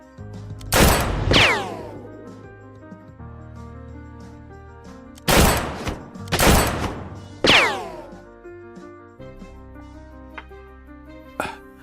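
Three sharp gunshots fired at a shooting target, spaced apart over a quiet backdrop of low background music, each blast loud and close with a ringing decay.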